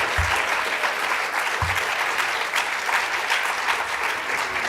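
Audience applause at a museum closing program after a performance, full steady clapping from a crowd with a couple of low thumps near the start, continuing evenly throughout.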